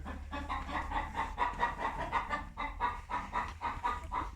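Several Orpington hens in a coop cluck and murmur continuously, a busy rhythmic chorus of soft calls close by, with no talking.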